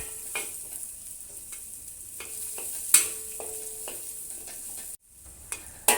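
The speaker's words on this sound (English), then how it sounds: "Stir fry the onions until it turns slightly brown" Onions stir-frying in oil in a wok, a soft continuous sizzle with occasional spatula scrapes and clinks against the metal, one sharp knock midway and a brief dropout before the sizzle resumes.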